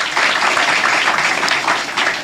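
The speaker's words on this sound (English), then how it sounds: "let's give a round of applause." A crowd at a Saint Lucia tourism ambassador announcement bursts into loud, dense applause, many hands clapping continuously and evenly in a large room, with no voices over it.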